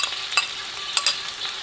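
Spatula scraping through kway teow seasoning frying in a pan with chili, a few sharp metallic scrapes over a steady sizzle, close and clear, with no talking.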